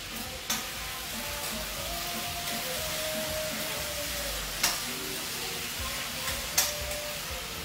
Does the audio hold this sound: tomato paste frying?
yes